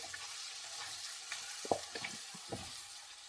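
Salted tomatoes being stirred in a pan, with a soft sizzle of frying under a few scattered scraping knocks of the spoon, close and fairly quiet.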